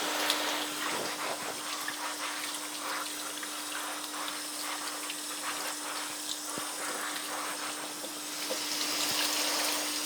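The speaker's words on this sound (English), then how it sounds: "I actually rinse down my hose once the gloves are rinsed." Water running steadily from a hose as it is rinsed down after photographic developing work with gloves, a continuous close gushing hiss with a faint constant hum beneath and no talk.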